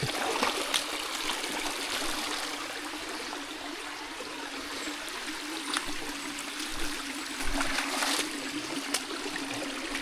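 River water rushes and trickles steadily, a continuous close hiss with small splashes, no voices.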